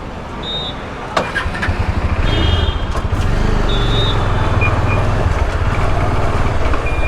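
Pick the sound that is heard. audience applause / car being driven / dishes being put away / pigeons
car being driven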